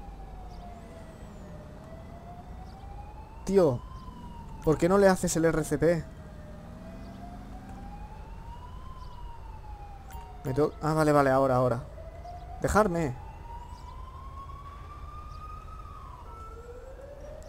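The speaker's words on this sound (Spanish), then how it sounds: "escucho la ambulancia" An ambulance siren wails in the GTA 5 video game, a continuous rising and falling tone at moderate distance that runs under intermittent talking voices.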